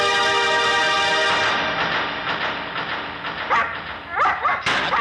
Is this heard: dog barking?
yes